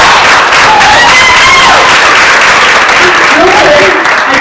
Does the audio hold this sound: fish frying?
no